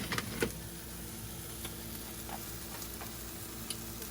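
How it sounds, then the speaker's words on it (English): A Philly cheesesteak frying in a pan, a steady low sizzle with a few sharp spatula scrapes and taps against the pan as it is flipped, close and quiet, with no talk. "Flip my cheesesteak over."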